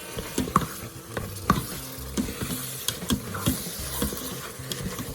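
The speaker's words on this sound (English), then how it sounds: "Then we're gonna add our kielbasa right to the pot. And we'll give that a good mix." Kielbasa sizzles as it is stirred in a pressure cooker pot. Close, intermittent scraping stir strokes sound over a soft frying hiss.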